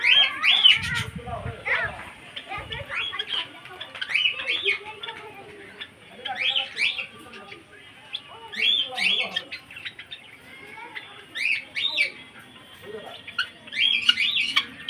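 Birds call outdoors in repeated bursts of high chirps and tweets spread across the whole stretch, some brief and others in clusters, with quiet gaps between them and a voice speaking softly near the start.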